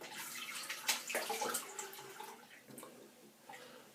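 Cold water runs from a bathroom tap after a wet shave, a close, splashing, uneven stream with a few drips and spatters.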